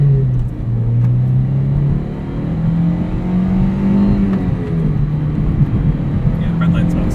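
A 2003 Toyota MR-2 Spyder with a six-speed manual, its engine droning and rising in revs from inside the cabin during a sunset drive, loud and steady, with occupants talking over it.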